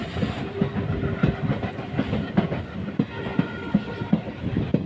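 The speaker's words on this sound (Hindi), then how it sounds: "देखिए इसमें पीछे एक पावर जुड़ी हुई है, एक लोकोमोटिव पीछे से धक्का लगा रहा है" A passenger train climbing the Western Ghats line, pushed by a rear locomotive, rumbles steadily with rhythmic clickety-clack of wheels over rail joints, heard from inside the carriage.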